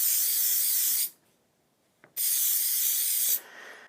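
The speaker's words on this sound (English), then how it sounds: "now we're going to take our dry lube and we're going to kind of keep everything else to the side and we're just going to spray it." Dry lube sprayed onto a gun magazine in two steady aerosol bursts, each about a second long with a short pause between, loud and close with no talk.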